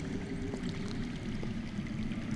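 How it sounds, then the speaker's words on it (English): Water flows steadily underground in a Game of Thrones video game, a continuous rushing, pouring wash at moderate loudness with no talk over it. "That's water. I hear water. From underground."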